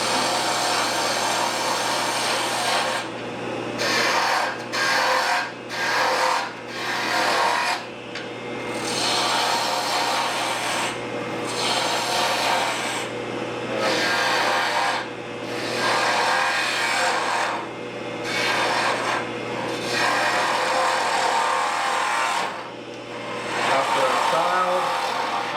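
A bowl gouge cuts a wooden goblet spinning on a lathe, giving a steady loud scraping rasp that runs almost continuously, broken by short pauses as the tool lifts, with a low motor hum beneath and a voice talking at times.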